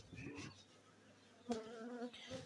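Honeybees buzz at hive frames in a close, quiet hum, with individual insects droning past and a soft click in the middle.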